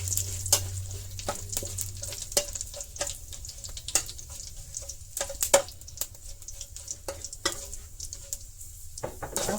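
Dried red chilies fry in hot oil with a close, continuous sizzle broken by frequent sharp pops and crackles.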